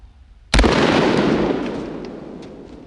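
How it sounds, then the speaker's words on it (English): A single 9mm pistol shot fired into a cheap body armor plate, a sharp loud bang close by that rolls off into a long fading outdoor echo. "Let's hit this body armor with a 9mm."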